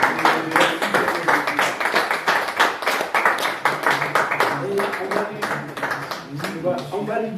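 A church congregation claps in acclamation, a loud run of rhythmic, fairly regular handclaps from many people close by, with voices and singing mixed in beneath.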